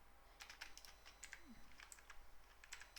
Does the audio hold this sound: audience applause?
no